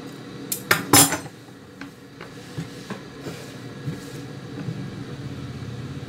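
Fabric for a front-placket nightie cut during tailoring: a few crisp metallic scissor snips near the start, then softer, scattered clicks and rustles of cloth close by.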